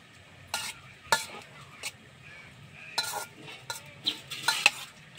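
Ragi puttu with grated medium-mature coconut being stirred in a pan, giving soft scraping and clinking strokes at an uneven rhythm, close and fairly quiet with no talk.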